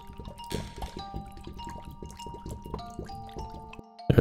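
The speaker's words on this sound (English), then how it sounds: "Empty water jug. Fill that up with some water." In The Supper video game, an empty water jug fills with water: a run of small, close dripping and trickling splashes with faint tonal hums underneath, ending in a louder burst of splashing.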